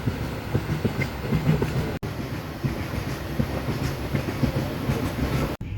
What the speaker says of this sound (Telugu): ఇప్పుడు ట్రైన్ అయితే స్టార్ట్ అయింది రామగుండం నుంచి.